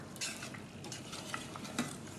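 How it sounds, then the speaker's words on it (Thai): A spoon stirs southern Thai coconut fish curry in a pot, with a faint simmering sizzle beneath and a few light scrapes against the metal, close and quiet with no talk. "ต้งคนบ่อยๆนะคะ เดี๋ยวเนื้อปลาจะไม่ติดก้นหม้อค่ะ"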